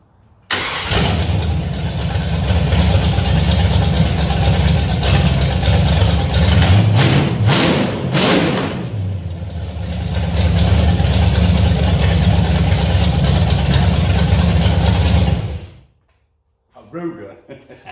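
A 1965 Mercury Comet with a 331 engine fires up for the first time and settles into a loud, steady, rumbling idle, with a brief rev midway, before cutting off abruptly near the end.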